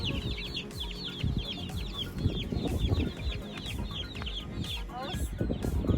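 Several chickens cluck and chatter continuously nearby, with a steady outdoor background and occasional higher bird calls mixed in.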